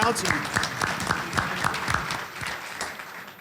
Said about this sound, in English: Let's give a round of applause for the councilman.